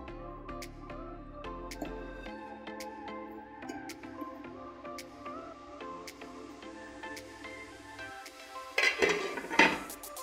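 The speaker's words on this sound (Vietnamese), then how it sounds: "các bạn dở ra mình khuấy đều một lần nữa nha" Tapioca pearls being stirred in a cooking pot, with scattered light clinks and taps of a utensil against the pot over a steady tonal background, ending in a brief louder burst of scraping.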